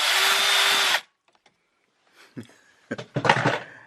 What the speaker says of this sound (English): I'm trying to drill a hole right in here, and funny enough, it doesn't drill.